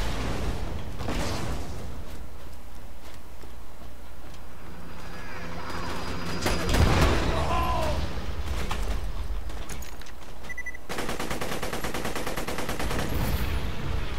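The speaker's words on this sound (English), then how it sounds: "I hear rockets." Rockets firing during a Borderlands 2 firefight, a loud swelling whoosh and burst near the middle amid constant gunfire and game noise, with a dense rapid crackle taking over near the end.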